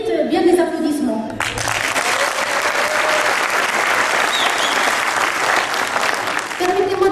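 Audience at a business school graduation and tenth-anniversary ceremony bursts into sustained, dense applause that holds steady for several seconds, with a speaking voice briefly at the start and returning at the end.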